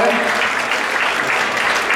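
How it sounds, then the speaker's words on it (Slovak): An audience applauds sound engineers and technicians at a folklore gala, with dense, steady clapping throughout. "Veľký potlesk si pre nich poprosím"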